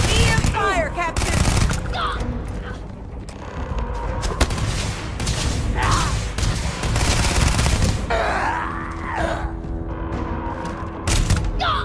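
Weapon fire in a Starfield space battle, a dense stream of rapid blasts and booms layered with game sound effects across the whole stretch, loud and continuous.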